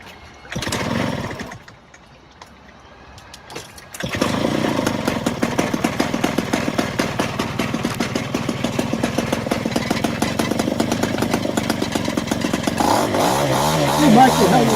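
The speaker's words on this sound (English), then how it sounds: "Mark's been building, but he's got this engine, this motor right here, a Zenoah 38." Zenoah 38 gas engine on a radio-control model plane at a flying field, starting with a brief burst, dropping near quiet, then running up into a loud, steady, buzzing two-stroke drone that holds and climbs slightly toward the end.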